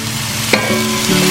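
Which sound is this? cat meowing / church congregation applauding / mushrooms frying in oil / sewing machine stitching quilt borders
mushrooms frying in oil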